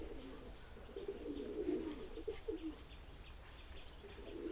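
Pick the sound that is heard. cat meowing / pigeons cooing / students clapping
pigeons cooing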